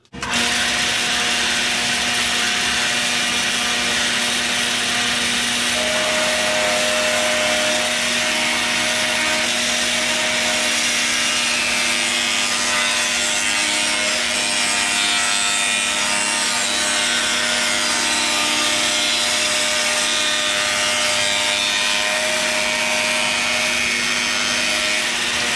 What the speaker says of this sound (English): So what I'm going to do is put a dado blade in my table saw, and I'm going to rip most of this waste out of there